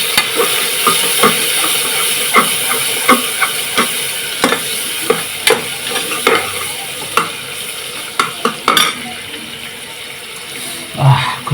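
Sliced onions fry in oil with whole black pepper and small cardamom in a pressure cooker for chicken pulao, giving a steady loud sizzle broken by frequent scraping stirs and clinks of the spoon.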